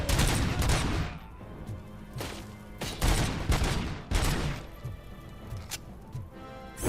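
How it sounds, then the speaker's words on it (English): Repeated grenade explosions and gunfire in the video game Robocop Rogue City, several loud bursts landing about a second apart over a continuous roar of combat. "Someone's just spamming grenades."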